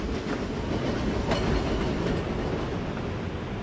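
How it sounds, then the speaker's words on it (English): Glacier Express train climbing the old Furka Pass railway in the Swiss Alps, a steady loud rumble of rolling rail cars with faint clickety-clack from the wheels, continuous throughout with no voices. "This is how the Glacier Express used to climb the Furka"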